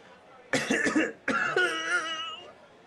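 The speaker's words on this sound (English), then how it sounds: "Cough 3 times if you're okay." Three separate coughs from one nearby person, two quick bursts close together and then a longer, more drawn-out cough, loud and clear against a quiet background.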